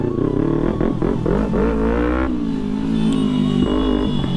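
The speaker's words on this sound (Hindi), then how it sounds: "भाई तुम्हारे बाइक की जो आवाज़ आ रही है ना" KTM Duke 390 motorcycle engine revving up and down on a ride, a loud close single-cylinder growl with rising and falling pitch and a brief throttle blip near the end, with no talk.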